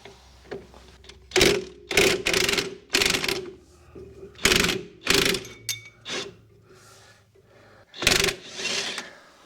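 A hand ratchet works a bolt loose from the drive shaft of a 2007 Jeep Liberty, giving repeated bursts of close, crisp clicking separated by short pauses, with faint background noise between strokes.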